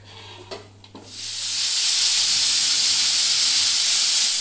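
A kitchen pressure cooker boiling jackfruit with salt and water lets out a loud, sustained rush of hissing steam after a second of quieter rattling, holding steady to the end.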